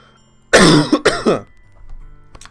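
Two or three sharp, close coughs come in quick succession, harsh and throaty, followed by a soft trailing breath and quiet.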